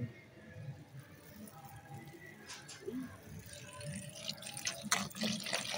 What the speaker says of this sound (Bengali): ফুলকপিগুলো ভালো করে ধুয়ে নিই